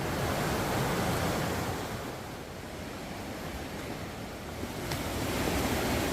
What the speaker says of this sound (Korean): 이야, 폭포 봐라.